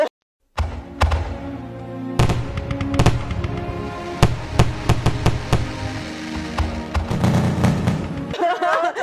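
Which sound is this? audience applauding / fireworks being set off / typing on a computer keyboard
fireworks being set off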